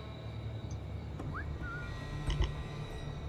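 A character's whistle in Assassin's Creed IV Black Flag, used to lure a nearby enemy, sounds as a short rising tone over a steady game ambience, with a few faint clicks after it and no talk.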